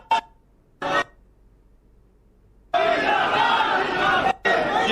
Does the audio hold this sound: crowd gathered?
yes